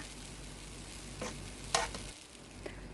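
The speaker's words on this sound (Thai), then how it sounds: "พอกระทะร้อนตักขนมมาใส่เลยค่ะ ใช้ไฟอ่อนทอดไปเรื่อยๆเลยนะคะ" Soft, constant sizzling of coconut batter frying over low heat in a pan, with a few brief scraping or tapping sounds of a utensil over the low hiss.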